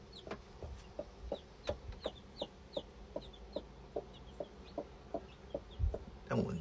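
Chickens cluck in a garden, a steady run of short soft clucks spaced about half a second apart, fairly faint, with a brief louder rustle at the end.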